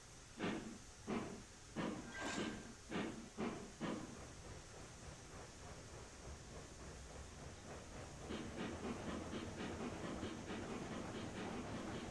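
Steam locomotive in the game Railroads Online: a series of rhythmic chuffing bursts early on, then a long steady hiss of steam building toward the end, fairly quiet and with no talk.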